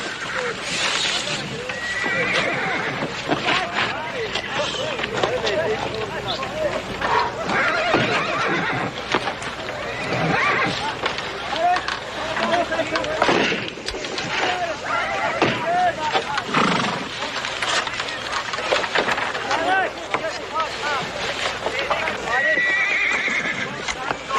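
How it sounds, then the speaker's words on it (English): Horses neighing and whinnying alongside hooves clip-clopping in a Western setting, repeated loud calls and hoof beats scattered throughout, mixed with people talking. "I want to see the horses."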